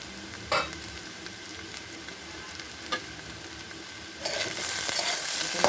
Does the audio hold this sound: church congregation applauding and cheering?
no